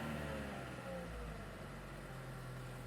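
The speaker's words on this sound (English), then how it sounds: "as you can hear, the engine is running" A Chevrolet Cruze engine idling steadily with a low, even hum and check engine light on, heard faintly from nearby without any revving.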